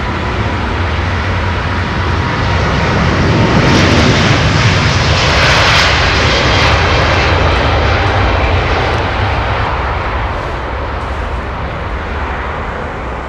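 Airbus A350 and A330 jets pass at Heathrow runway 27R, a loud, close, continuous roar that swells to a peak around the middle and eases slowly, with no speech.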